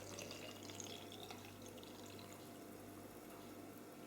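Cold water pours steadily into a baby's bottle to measure it out for low-protein pancake batter, a faint continuous trickle and fill heard alone over a low hum.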